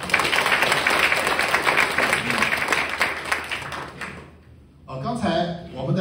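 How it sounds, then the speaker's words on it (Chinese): Warm applause from an audience at a company leadership training session, steady dense clapping filling the room for about four seconds before briefly fading, then a speaker begins talking. "我们的梅阳一个热烈的掌声"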